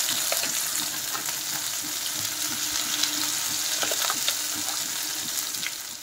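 A paste of mustard, coconut and pointed gourd seeds fries in a pan over a low-to-medium gas flame, giving a continuous close sizzle and crackle with scattered stirring scrapes throughout.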